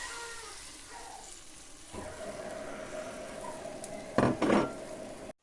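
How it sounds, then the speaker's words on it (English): Omelette mixture sizzles in a pan, a soft, steady frying hiss with faint kitchen clatter and a few sharper clinks near the end. "I just pour it into the pan and make my omelette"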